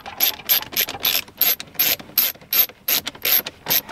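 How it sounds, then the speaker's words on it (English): Ratchet driving T20 screws to fix an upgraded 8.8-inch screen in a BMW F30 interior, a close, crisp series of about twelve evenly spaced clicking pawl bursts with no talk. "take two of your T20 screws and go ahead and secure that screen in place"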